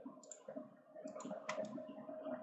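A computer mouse clicks several times during work in CATIA design software, small crisp clicks over a steady low hum, close and quiet, with no speech.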